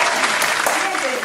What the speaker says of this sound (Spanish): Démosles un fuerte aplauso, por favor.